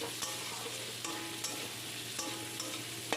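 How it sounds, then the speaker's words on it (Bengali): Grated ginger fries in a pan for a bottle gourd and prawn curry and is stirred hard, a close continuous sizzle punctuated by regular scraping knocks of the utensil. "খুব ভালো করে নেড়ে চেড়ে নিচ্ছি"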